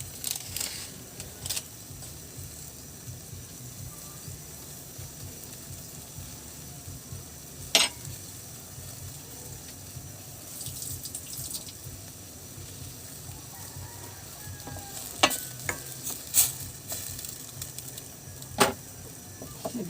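Fish escabeche sauce with carrots simmering uncovered in a pan, a steady soft bubbling and sizzle with occasional sharp clicks, fairly quiet and close, no talking.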